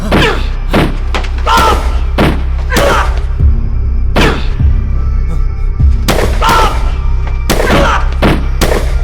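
A series of loud, sharp movie gunshots, about one per second at an uneven pace, close and booming.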